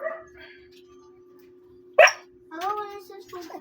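A dog gives one sharp, loud bark, then a run of whining yips, over a steady background hum; another dog may join in.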